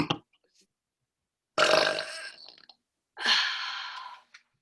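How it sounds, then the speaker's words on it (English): A woman lets out two long, loud, raspy burps a second or so apart, close to the microphone, with a short vocal sound just before them. "First burp of the day."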